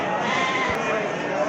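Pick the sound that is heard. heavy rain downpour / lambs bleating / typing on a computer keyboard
lambs bleating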